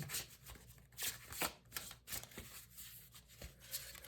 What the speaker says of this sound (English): I'm actually going to shuffle these back into the deck because that just sort of flew out